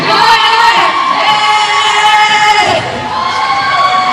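Netball audience at the SEA Games cheering and screaming loudly in an arena, a sustained roar of many voices with high-pitched shouts, dipping briefly before swelling again.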